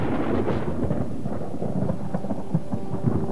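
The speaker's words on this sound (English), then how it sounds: "clouds, and rain." Thunderstorm with steady rain, low rumbling thunder rolling continuously beneath a dense hiss of falling rain, loud and sustained throughout with no voices.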